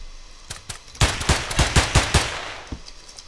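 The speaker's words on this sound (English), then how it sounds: "I shot you many times." Rapid gunfire in the stealth video game Of Guards and Thieves: a quick burst of about six or seven sharp shots in steady rhythm, preceded by a couple of lighter pops and followed by one more, with no talking.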